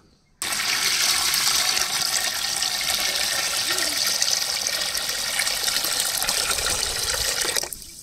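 Water pours steadily into a pan of lightly fried semolina for payesh, a loud continuous rush that runs for several seconds and then stops abruptly.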